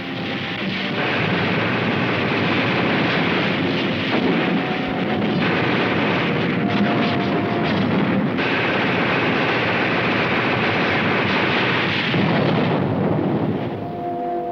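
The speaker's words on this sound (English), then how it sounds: "Our artillery engaged in a duel with enemy guns." Artillery guns trade fire with enemy guns during the invasion of Southern France. A dense, continuous roar of booms and rumbling blasts runs loud throughout, with no voices.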